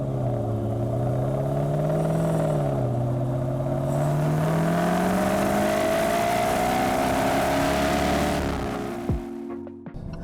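Range Rover Sport SVR engine accelerating, a loud, deep rumble that rises steadily in pitch over several seconds before easing off and fading near the end.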